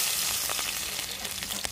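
Garlic cloves fry in a kadai over a village clay stove, in oil left from frying river fish, making a steady, bright sizzle with scattered small crackles throughout.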